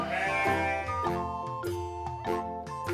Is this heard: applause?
no